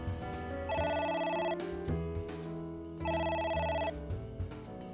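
A phone rings in the video game AI: The Somnium Files in two distinct electronic ring bursts separated by a pause, clear and fairly loud over a low, steady game soundtrack.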